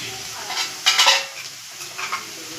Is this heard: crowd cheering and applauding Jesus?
no